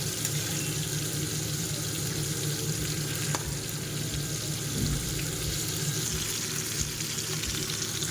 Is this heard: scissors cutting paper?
no